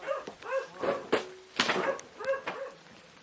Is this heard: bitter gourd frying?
no